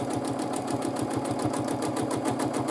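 A sewing machine stitches steadily in free motion quilting, tracing a ribbon candy pattern, with a fast, even mechanical chatter that runs close and unbroken throughout, with no talk.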